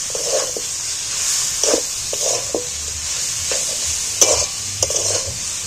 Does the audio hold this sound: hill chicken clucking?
no